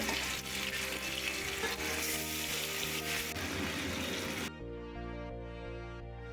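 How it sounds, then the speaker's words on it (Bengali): Bata fish fry lightly in hot oil, a steady close sizzle and crackle that runs for several seconds, then drops to a softer hiss with a faint tonal hum underneath. "আমি হালকা করে এপিট ওপিট ভেজে নিচ্ছি।"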